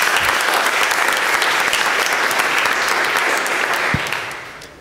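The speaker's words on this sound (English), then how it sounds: "Applause." Loud, sustained audience applause at an architecture panel discussion, dense clapping from many hands that holds steady and then tapers off toward the end.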